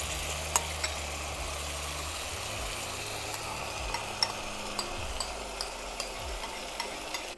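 Onion masala with yogurt sizzles in a pan while being stirred, steady frying hiss with small scraping clicks from the spoon at a regular pace, close and fairly loud, under a low background hum.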